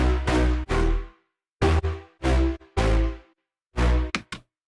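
Vocal-chop phrases processed through a spectral resonator in regular mode, heard as five short resonant, pitched bursts with ringing tails and gaps of silence between them, ending in quick stuttered hits.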